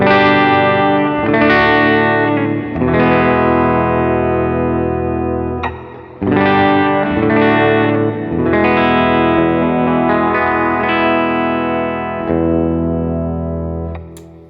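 Electric guitar chords on an Epiphone Dave Grohl signature 339 semi-hollow played through the bridge pickup with a clean-ish tone, several strummed chords ringing out loud and sustained, alone with no talk.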